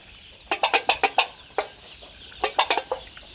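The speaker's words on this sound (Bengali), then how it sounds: "আজকে মুরগির বয়স 27 দিন।" Young chickens, 27 days old, clucking in a short burst of about seven quick calls, a pause, a single call, then another run of four or five, fairly close and clear.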